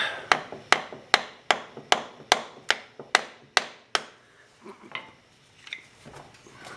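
Metal tapping on an ATV stator to mark its timing position, about ten sharp, evenly spaced close taps in a quick steady rhythm, followed by a few softer, scattered knocks as the tapping stops.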